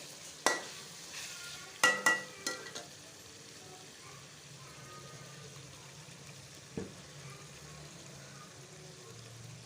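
Chicken karahi with ground coconut and cream being stirred in a pan, a few sharp scraping clinks of the spoon early on, then a soft, steady low bubbling with one more faint clink near the end.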